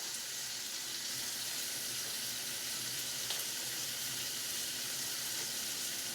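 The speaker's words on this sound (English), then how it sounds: "So I'm making a veggie stir fry." A veggie stir fry cooks in a pan with a steady, close sizzling hiss that stays even and unbroken throughout, and no one speaks over it.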